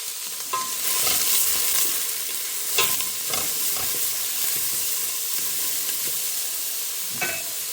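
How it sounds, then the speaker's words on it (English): Soup ingredients sauté in a pot with a steady, close sizzle and hiss, broken by several scraping stirs of the spoon. "we're just going to let that saute."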